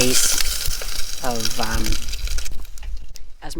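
Bacon is frying in a pan at a campsite, a close, continuous crackling sizzle running beneath a person talking.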